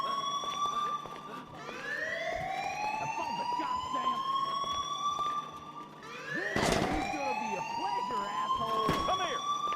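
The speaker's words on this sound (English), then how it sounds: "if you bring down too many at the same time, they'll hit the alarm" Alarm siren in an Indian GTA-style video game, rising wails sweeping up repeatedly at steady loudness, with a burst of noise around the middle and game sounds underneath.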